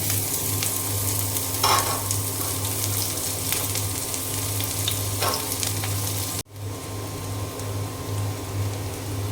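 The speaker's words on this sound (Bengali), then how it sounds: "আমি এখন দিয়ে দেব পেঁয়াজ কুচি আর হচ্ছে থেতু করা রসুন" Chopped onion and crushed garlic hit hot oil in a pan for a Bengali potato ghonto, a loud steady sizzle with a few stirring scrapes and a short break partway through, no speech.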